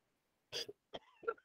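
A man clears his throat and coughs in a few short, close bursts separated by brief pauses, with a faint, quiet room behind him.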